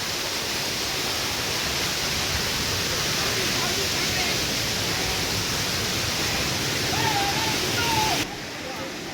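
Rushing water roars continuously like a waterfall, a steady broadband hiss close by, with faint voices barely audible under it.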